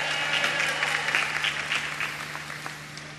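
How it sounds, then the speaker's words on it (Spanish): A large crowd gathered for a Mass in a cathedral square claps steadily and densely throughout, a continuous wash of applause with no voices standing out. "Un gran aplauso."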